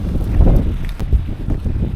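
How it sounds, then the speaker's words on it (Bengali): Storm wind gusts over a papaya orchard buffet the microphone with low, rumbling bursts that rise and fall unevenly for a couple of seconds. "এখনো বাতাস হচ্ছে"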